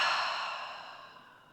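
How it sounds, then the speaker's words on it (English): A single long exhale through the mouth during a prenatal yoga breathing exercise, a soft, breathy sigh that starts fairly clear and close, then slowly fades over about a second and a half with no talking. "And exhale through the mouth."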